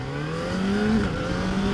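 A Kawasaki ZX4RR motorcycle accelerates with its engine note climbing steadily, then briefly dips and resumes rising as the quick shifter snaps into the next gear, loud and close.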